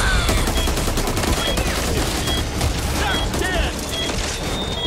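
Rapid gunfire in the zombie shooter Back 4 Blood on Nightmare difficulty, a loud, dense, continuous barrage of shots with scattered game effects over it.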